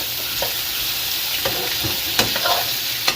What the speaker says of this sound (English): Sausages are nice and brown